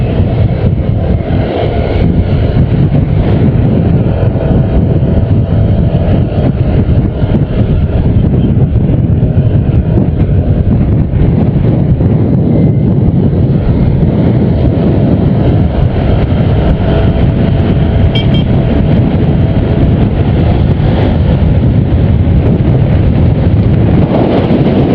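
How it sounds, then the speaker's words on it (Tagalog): Strong wind buffets the microphone continuously, a loud, rumbling roar that never lets up, with faint road or engine noise underneath. "Mahangin."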